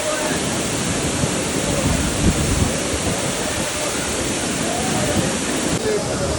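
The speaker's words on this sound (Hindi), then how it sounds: "इतना बढ़िया वाटरफॉल चल रहा है ना" A waterfall near Mussoorie produces a steady, loud, broadband roar of rushing water that continues without a break, with wind buffeting the microphone.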